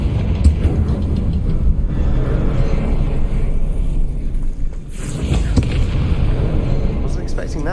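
Confringo fire-blast spell in a wizard video game, a loud, dense burst of booming, crackling impacts under heavy game noise, with a second blast near the end.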